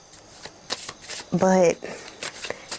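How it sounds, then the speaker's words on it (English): A deck of tarot romance cards is shuffled in a quick riffle burst, with a few lighter card flicks around it while someone talks. "I'm shuffling the romance cards"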